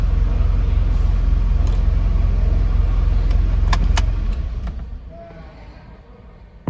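A Mitsubishi Pajero common rail diesel engine rumbles loudly and steadily up close, with a few light metallic clicks, then the sound dies away to a faint quiet.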